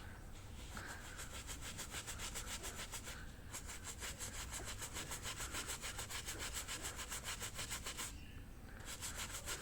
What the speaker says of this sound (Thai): เสร็จแล้วเนี่ยเราก็เอาแปรงขัด